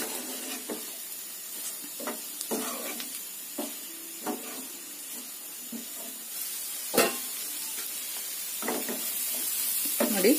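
Potato and peanut saagu fries gently in oil and ghee over a low flame, giving a soft steady sizzle broken by occasional scraping stirs.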